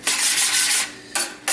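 A utensil scrapes the bottom of a pot while making veal stock: one long rasping scrape, then two short close scrapes after a brief pause.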